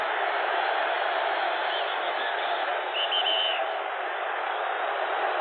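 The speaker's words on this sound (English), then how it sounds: "Now they're shouting defense." Superdome football crowd at a 1983 Jets–Saints game on its feet chanting, a dense, loud, band-limited roar that holds steady with a few brief whistle-like tones riding on top.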